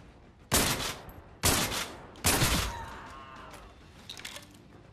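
Three heavy shotgun blasts in the VR shooter Zero Caliber, each a loud sharp boom with a ringing tail, spaced about a second apart, followed by faint mechanical clatter.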